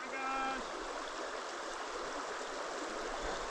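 Icy, near-freezing stream water rushing steadily during a stream crossing on the Appalachian Trail in Virginia, a continuous close wash with a brief tone near the start.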